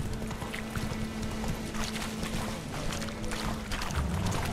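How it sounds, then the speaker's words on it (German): Horse hooves clip-clopping steadily in the video game The Witcher 3, a continuous close rhythmic patter over a low ambient hum. "Geht aus dem Weg, wenn ein Pferd kommt."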